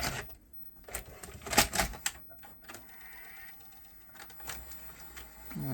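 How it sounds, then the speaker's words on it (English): A junk-shop Matsui video recorder takes in a tape with a series of faint mechanical clicks, clunks and a short whirring motor, quiet and close, with brief talking in between. "Let's put a tape in."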